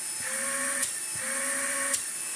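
A Bosch Unlimited cordless vacuum cleaner runs with a steady, close motor whine that pulses slightly, punctuated by a couple of brief clicks.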